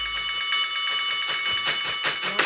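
An alarm bell rings in a Thomas the Tank Engine sprite animation, a rapid shrill metallic clanging that pulses steadily and grows slightly louder, with no voices over it.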